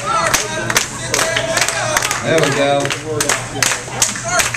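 Audience clapping and crowd noise at a Hollywood vs Deon Mercer event, steady scattered claps under someone talking over a low hum.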